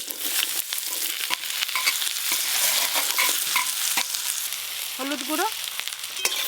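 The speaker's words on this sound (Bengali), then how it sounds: "পাঁচ ফোড়ন, এখানে আলু, শিম আর বেগুন নিয়েছি," Potatoes, flat beans and eggplant fry together in a pan with panch phoron, giving a continuous loud sizzle with intermittent stirring clicks and scrapes, while a voice speaks briefly near the end.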